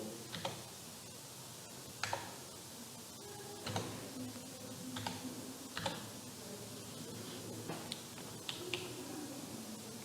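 Quiet, scattered clicks of keys as a formula is typed on a computer keyboard into GeoGebra graphing software, spaced irregularly one or two at a time.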